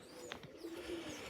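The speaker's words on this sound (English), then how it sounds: "I'll show you another pigeon." Tippler pigeons coo at a garden loft, a faint, low bubbling call with a few soft rolling notes, quiet against light outdoor ambience.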